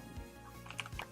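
A short burst of computer keyboard typing close to a microphone during a Minecraft session, a handful of quick clicks with a couple of louder key strikes near the end.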